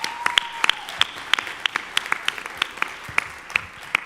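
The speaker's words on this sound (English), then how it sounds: "Give her a big round of applause" Audience at a town hall meeting in Evanston, Illinois, giving a round of applause: scattered, fairly sparse claps with distinct individual hand strikes, moderately loud and steady throughout.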